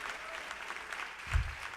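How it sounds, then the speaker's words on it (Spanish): A church congregation claps as an offering to the Lord during a sermon, a moderate, even wash of hand claps with a brief low thump near the end. "Le vamos a regalar una ofrenda de palmas al Señor de la gloria."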